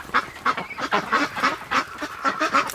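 Cold ducks in a barn kept near freezing in winter, calling in a steady run of nasal honking quacks, about a dozen loud, close calls in quick succession with no talk.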